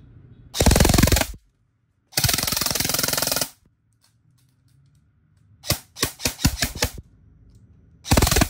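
An E&C 854BCM airsoft rifle with an SHS double o-ring nozzle fires full-auto bursts: two long loud buzzing strings, a quick run of separate sharp cracks, then another short burst, with silent gaps between.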